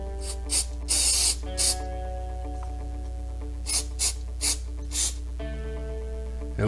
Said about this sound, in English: I recommend always at least spraying it with contact cleaner